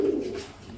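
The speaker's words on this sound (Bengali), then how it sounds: "এই জোড়া রয়েছে শৌখিন কবুতর" A fancy pigeon gives one short, low coo close by, fading quickly into quiet.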